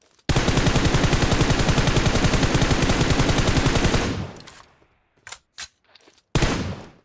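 Rapid automatic gunfire in the mobile battle royale game PUBG Mobile, a loud sustained burst of about four seconds, followed by a few short separate shots and bursts.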